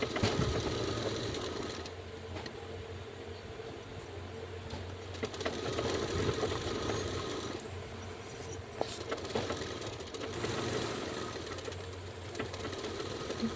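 A sewing machine stitches leftover blouse fabric along the side while making a lined blouse, running as a steady continuous mechanical drone with faint rattling texture, close and alone with no voices.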